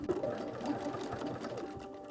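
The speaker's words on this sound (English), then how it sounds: "I will stitch from this end all the way down to the other end" A sewing machine runs a continuous stitch along a skirt's gathered waistband seam, a close, steady whirring hum with fast rhythmic needle chatter, heard alone without talk.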